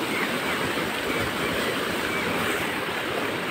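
Monsoon water rushing down the Dohan river, a steady, dense roar of flowing water with no pauses, loud and close throughout.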